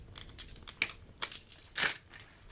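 A handful of coins clink and jingle as they are dropped into a paper envelope for savings, several quick bright metallic taps close up and fairly quiet.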